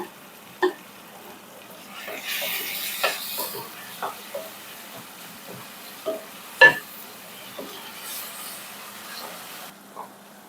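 Mixed vegetables frying with panch phoron spices, with soft sizzling, scattered crackles and spoon stirring taps at close range and no talk.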